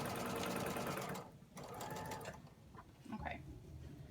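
Sewing machine stitching a scrub hat with elastic, running fast and close for about a second, then stopping and starting again in short bursts, with light handling noises and a soft voice in the gaps.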